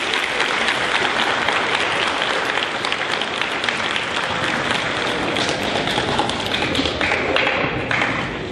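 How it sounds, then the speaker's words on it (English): Sustained, dense applause fills a room at an eighth grade celebration as the audience claps for the students, loud and unbroken for over eight seconds. "Give them all a round of applause"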